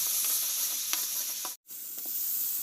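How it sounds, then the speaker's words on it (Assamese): Spice masala of turmeric, coriander-cumin powder, chili powder and salt sizzles steadily in a pan with a little water for a fish curry, with faint stirring scrapes and a brief pause near the middle. "এতিয়া অলপ পানী দি মছলাখিনি কচুৱাই লম।"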